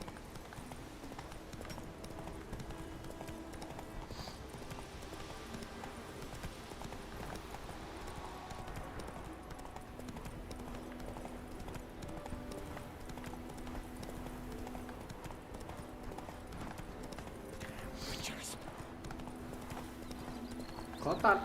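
Horse hooves clip-clop steadily at a walking pace in The Witcher 3, a moderate, continuous rhythm beneath game ambience that runs throughout.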